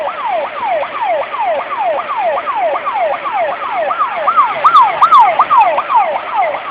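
A fire truck's wailing siren cycles rapidly up and down in a steady, even rhythm, loud and close throughout as it passes, with faint street traffic underneath.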